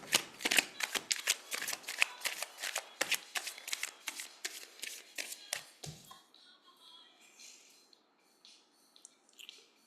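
Tarot cards being shuffled by hand, a rapid run of crisp riffling slaps and taps for about six seconds, then quieter soft card handling, close and intimate.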